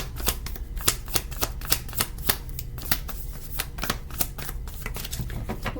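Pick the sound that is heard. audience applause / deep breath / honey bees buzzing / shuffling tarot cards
shuffling tarot cards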